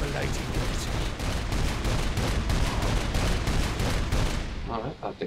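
Missile launcher firing in the game Saints Row IV, a dense rapid volley of loud percussive blasts and explosions repeating steadily for several seconds before cutting off, with faint voices mixed in.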